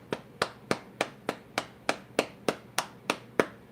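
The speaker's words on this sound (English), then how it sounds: "we gonna cup the hand and we gonna clap it like that." Cupped hand clapping against the body, eleven even, hollow slaps about three per second, close and alone.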